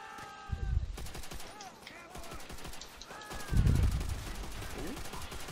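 Gunfire in a Call of Duty match, quick shots and bursts at moderate volume beneath players talking and a couple of low thumps.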